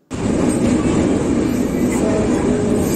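A train at Vijayawada railway station rumbles loudly and continuously close by, a dense steady roar of rolling wagons that starts abruptly and holds throughout.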